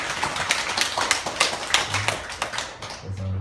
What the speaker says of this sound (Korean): 예수님께 박수 한번 보내드려요